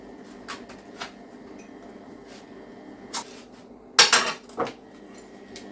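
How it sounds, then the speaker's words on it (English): Knife slicing through the fat on raw pork in a kitchen, heard as a few scattered scrapes and taps on a board with a louder cluster near the end, close and otherwise quiet. "so I'm going to slice the fat just so as the spices penetrate"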